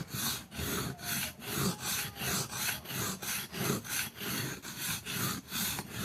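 Knife blade stroked back and forth on a whetstone, a loud close rasping scrape repeating in an even rhythm of about ten strokes, with no talk.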